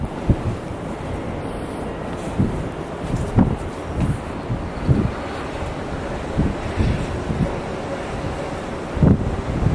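Steady wind blows outdoors around an IKEA MULIG drying rack with towels hung on it, a continuous low rumble rising in repeated gusts with buffeting bursts on the microphone and no talking.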